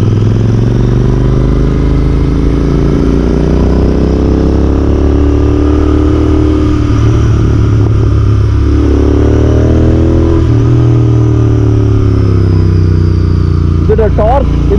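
Royal Enfield Interceptor 650 motorcycle riding on the road, a loud steady engine drone with shifting rev pitch and wind rush throughout, someone talking over it.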